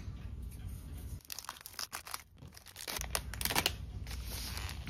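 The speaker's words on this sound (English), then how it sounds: "Let me cut this open." Scissors snip and slice through a package with crinkling plastic and paper, a few close, crisp cuts and rustles over soft background noise.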